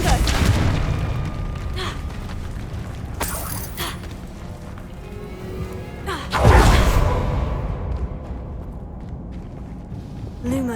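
A Confringo blasting spell fires in the Hogwarts Legacy video game, a loud whooshing burst with a deep booming impact around the middle, among game effects and a spoken voice.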